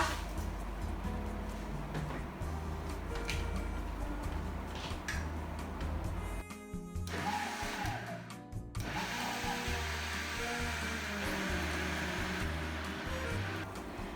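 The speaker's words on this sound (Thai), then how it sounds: "เดี๋ยวเราเริ่มปั่นกันเลยนะคะ" A countertop blender whirs steadily while puréeing a smoothie of gotu kola leaves and pumpkin shoots with water, a continuous loud motor drone with brief dips and surges as the load shifts, no voices over it.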